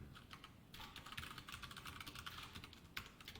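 Dense, steady typing on a computer keyboard while writing C code for an if statement, with rapid close key clicks running nearly continuously and no talk.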